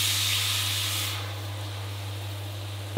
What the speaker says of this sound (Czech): Přidejte tymián a zalijte mlíkem.